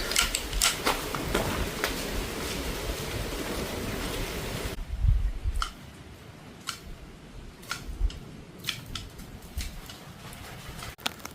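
Heavy rain pours down outdoors in a garden, a dense loud hiss of rainfall with wind buffeting the microphone, then quieter steady patter with scattered sharp drops and taps near the phone.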